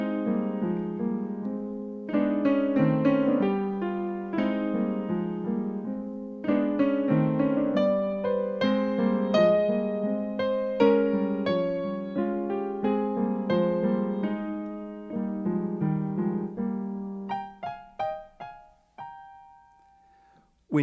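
Duck's theme from Peter and the Wolf: a steady, medium-pitched melodic line played over a fuller accompaniment, with phrases flowing continuously for about twenty seconds before thinning out near the end.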